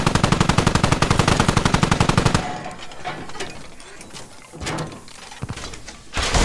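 Rapid sustained burst of machine gun fire in the Squad video game during armored combat, loud and close with a steady rattling rhythm for a couple of seconds, then giving way to scattered thumps and distant battle noise.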